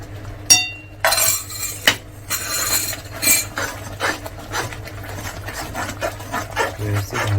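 A spoon stirs thickening mango preserve (muramba) in a pot, producing close metallic scrapes and clinks against the pot, with a few sharper knocks early on and a low hum behind.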